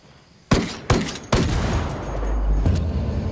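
Gunfire and a grenade blast in Ghost Recon Wildlands: three sharp, loud shots in quick succession, then a deep rumbling explosion swells and lingers, with another crack near the end.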